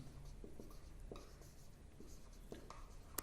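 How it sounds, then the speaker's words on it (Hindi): Pen scratching on paper during an accounting journal entry, soft repeated strokes close up over a steady faint room hiss. "नरेशन लिख देता हूं"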